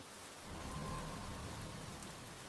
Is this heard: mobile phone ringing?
no